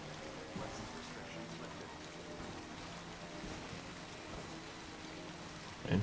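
Steady rain falls across an open landscape in the video game Death Stranding, a continuous soft hiss of drops on the ground with faint speech-like murmur underneath, ending in a brief louder thump.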